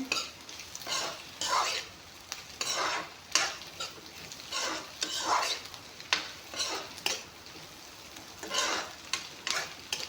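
Potato, onion and paneer frying in a pan, with a steady sizzle under repeated stirring scrapes and clinks of a spatula against the pan, continuous and close.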